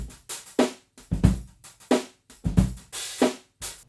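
Unprocessed drum kit from a room mic: a dry, roomy groove of kick and snare hits with cymbal wash, quiet and evenly spaced.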